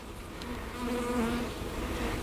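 Honeybees buzzing at an open hive, a close, continuous droning hum that swells slightly partway through, with no speech.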